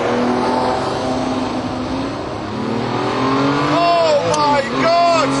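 A Ferrari F50 engine screams at high RPM, a loud, continuous racing wail that climbs in pitch with sharp rising revs near the end.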